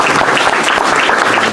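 Audience applause after a lecture by a former Chief Justice, a dense, steady wash of clapping from many hands filling the hall at close range, with no voices over it.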